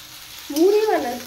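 Chopped onions fry in a pan with a soft, even sizzle running throughout, while a short vocal sound briefly rises over it partway through.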